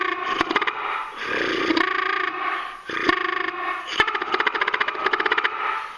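A Haint Gobble turkey call blown hard, loud bursts of throaty, harmonic gobbling with rapid fluttering stutters, repeated several times up close.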